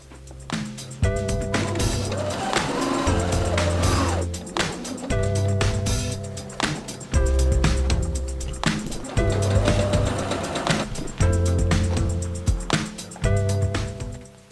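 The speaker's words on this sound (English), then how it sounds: "I'm sewing with yellow fabric." A sewing machine stitches yellow fabric in a run of loud, repeated bursts of motor whir, each stopping and starting again with short pauses between.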